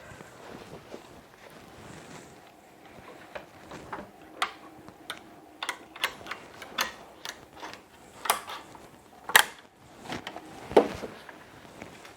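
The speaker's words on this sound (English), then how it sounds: "put it on the machine and set everything up and do a trace" An embroidery machine tracing a design outline on a beanie: irregular mechanical ticks, clicks and whirring motor movements at close range, sparse at first and busier later, without talk.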